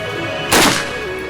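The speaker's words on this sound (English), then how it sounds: "he's going to start by firing a single tracer into the half-filled gas tank" A single tracer round fired into a half-filled gas tank: one sharp, loud crack-burst lasting a fraction of a second, standing out against a steady background hum, with no talk during it.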